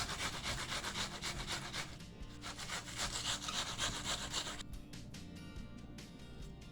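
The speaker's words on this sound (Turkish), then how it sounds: "Bir tane soğanı ince yerinden rendeledik." An onion rubbed on the fine side of a grater for Iskender kebab mince, steady rapid rasping strokes up close, ending in a few slower, lighter scrapes.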